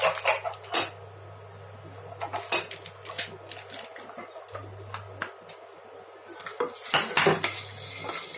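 Black peppercorns dry-roast in a pan, a metal utensil scraping and clinking against it in irregular taps and stirs, close and fairly loud, with a low hum in the background.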